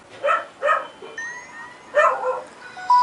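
Several dogs bark in short repeated bursts, about three loud barks spaced across a few seconds, fairly near, with higher yips and whimpers between them and no talk.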